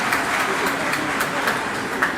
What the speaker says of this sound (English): Nompumelelo gets home to the biggest cheer of the day